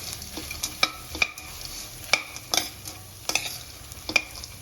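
Deep-fried crispy corn tossed in a pan for a barbecue-style dish, sharp spatula scrapes and clacks striking in an irregular rhythm over a low, steady sizzle.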